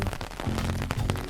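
Cartoon-style rain effect of a steady patter with quick scattered drop taps, soft and continuous for a brief moment with no voices.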